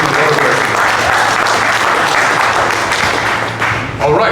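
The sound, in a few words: audience applause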